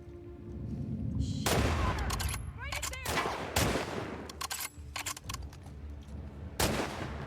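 Gunfire in The Last of Us Part II, dense bursts of shots and booms in rapid succession, loud and close, continuing in clusters throughout with occasional sharp single cracks.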